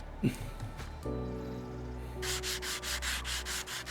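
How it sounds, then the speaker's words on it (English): A drywall sander works over stair or balcony rails during a train station renovation, first as a steady grinding hum, then as a run of rhythmic scraping strokes, about ten back-and-forth passes up close. "What looks like to be a drywall sander."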